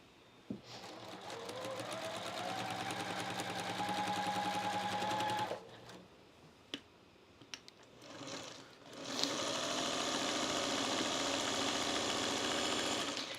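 A domestic sewing machine stitching quilt block fabric pieces together, close and steady, running in two long whirring bursts broken by a pause with small clicks and handling noises.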